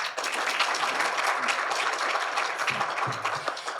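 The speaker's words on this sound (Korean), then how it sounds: "학 회장님께 다시 한번 큰 박수 부탁드립니다" A Korean academic panel on quantum science closes with the audience applauding the society presidents, a moderately loud, steady round of clapping with a few faint voices underneath.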